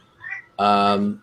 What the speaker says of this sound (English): that's my cat, by the way